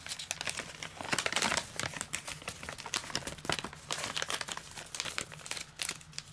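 Paper instruction sheet for a Fenix E12 v3.0 flashlight being folded, giving continuous close crinkling and crumpling with sharp papery rustles throughout.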